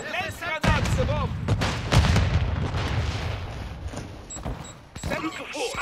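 A grenade explosion in Modern Warfare II during a Domination match on Taraq, loud booming blasts and gunfire rumbling over continuous in-game voice callouts.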